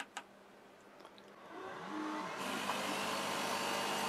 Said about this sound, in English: Now you just heard the automatic air assist come on.